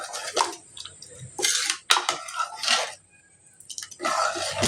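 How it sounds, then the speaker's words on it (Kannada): Water poured into a cooking pot while making mosoppu saaru lentil curry, with a few splashy pouring bursts and clinks of a vessel, close and fairly quiet, broken by a short lull. "ಅದಕ್ಕೆ ನೀರು ಹಾಕ್ಕೋತಾ ಇದ್ದೀನಿ"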